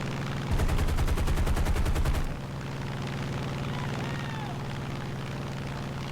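A Yak-7 fighter in War Thunder strafes a parked plane with a loud, rapid two-second burst of aircraft gunfire, followed by the steady drone of the engine.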